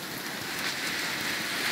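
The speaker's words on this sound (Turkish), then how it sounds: "Dün geceden bu yana müthiş bir yağmur, korkunç bir sulu yağmur yağıyor." Heavy rain pours down, a loud, dense and constant hiss of drops hitting surfaces close by, with no voices over it.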